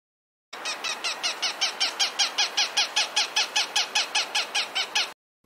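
A belted kingfisher gives a loud, rapid rattling series of harsh calls, about twenty evenly spaced notes in a steady burst, close and alone.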